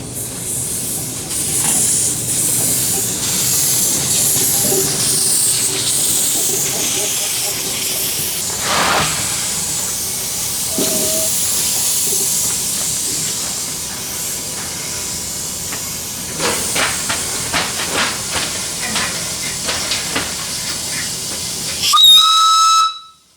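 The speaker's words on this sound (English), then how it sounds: "This is this beautiful Prairie locomotive." A Prairie live steam locomotive gives off a loud, continuous hiss of escaping steam for most of the time, with clanks and softer chuffs, then a sharp, close whistle blast near the end.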